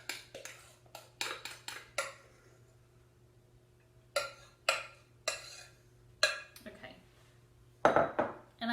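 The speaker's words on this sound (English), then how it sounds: "I do use a large tablespoon to spread this around with" A large tablespoon spreading banana pudding topping in a dish, with clinking scrapes against the dish in short clusters separated by quiet gaps, close and clear over a faint steady hum.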